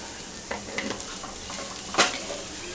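A spoon stirs grated potato with salt into a snack batter for corn bread pakode, giving soft scraping swirls with a few light knocks and one sharper clink against the bowl, close and moderately quiet.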